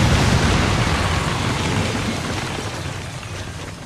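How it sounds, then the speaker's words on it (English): Detonated charges exploding in XCOM 2, a loud, dense rumbling blast that fills the clip from the start and slowly fades as the debris noise dies down, with no talk. "Detonating charges."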